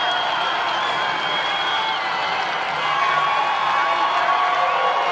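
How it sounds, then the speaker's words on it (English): An Army crowd at an NCAA first-round lacrosse game against Penn cheers with a steady, dense roar, whoops and clapping that swell slightly midway and hold loud throughout. "Army crowd liking that"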